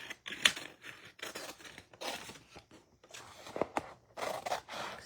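Scissors snip and scrape through backing material while trimming a craft piece, a run of short crisp cuts in irregular rhythm, close and fairly quiet.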